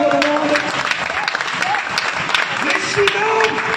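Church congregation clapping steadily in thanks during a worship service, a dense, continuous wash of applause with some voices mixed in.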